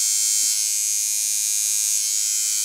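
Induction tattoo machine running steadily, a close, loud, even electric buzz like a shaver that holds constant throughout without breaks or speech.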